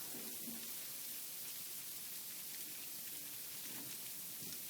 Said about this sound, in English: You can hear the sleet right now.